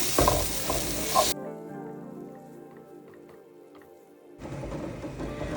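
Egg roast masala in coconut milk hisses and sizzles as it is stirred in a pan. The frying noise cuts off after about a second for a quieter tonal, music-like passage, then the sizzle returns.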